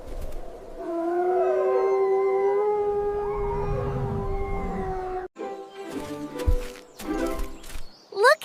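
Animals in a 3D animal video game let out a long, drawn-out howl that rises and wavers for several seconds, then fades into short, choppy game sounds and bursts.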